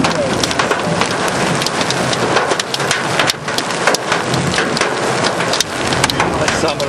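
Heavy hail pounding down in a supercell storm, a dense continuous roar of impacts with sharp cracks throughout, loud and close, with no pause across the stretch.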